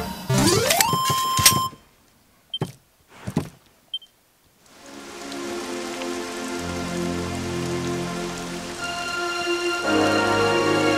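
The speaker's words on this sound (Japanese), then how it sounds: "雨降ってるね" Steady rain pours across the world of the video game Dragon Quest XI, a broad continuous hiss that swells in after a few short game sound effects and brief beeps, with tonal music threads running through the downpour.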